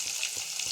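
Onions fry in hot oil with seasoning seeds and dried chilli, a brief close sizzle with a few soft rhythmic stirring thumps.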